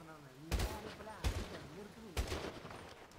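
Three sharp gunshots in the video game GTA 5 crack out at uneven intervals, each a short burst. They are fairly faint and sit under a voice talking.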